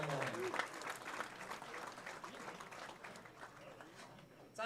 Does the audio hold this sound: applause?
yes